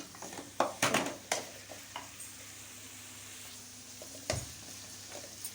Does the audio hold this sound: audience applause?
no